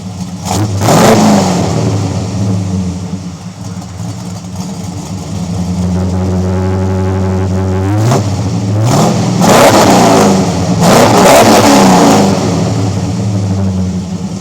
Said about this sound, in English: Try to do a little rev clip if I can here.